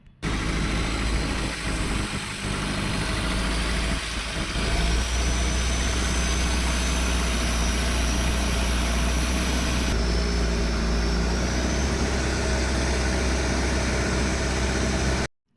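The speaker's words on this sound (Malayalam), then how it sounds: "ഇതാണ് ലോങ് ടെയിൽ ബോട്ട്." Long-tail boat engine running near Phi Phi, Thailand, a loud steady mechanical drone with a low throb that holds for the whole stretch, close up and without speech.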